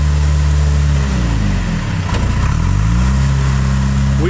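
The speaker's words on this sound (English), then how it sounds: "Tractor burns really clean with a 4-in-1 bucket." The diesel engine of a 2001 John Deere 310G backhoe tractor runs steadily close by, its pitch sagging briefly mid-way before settling back to a constant drone.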